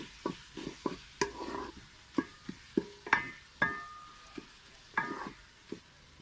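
Fenugreek (methi) leaves fry in a pan on a village cooking setup, a soft sizzle broken by a steady run of sharp spatula scrapes and taps as they are stirred, close and moderately quiet, with no talking.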